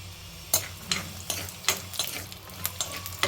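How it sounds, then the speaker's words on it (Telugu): Peanuts dry-roasting in a pan with a single drop of oil for cabbage peanut chutney: a steady low crackle broken by about ten sharp scraping stirs at irregular intervals, close and fairly quiet, with no talking. "ఒకటే చుక్క నూనె వేగాలమ్మా వేగాలి"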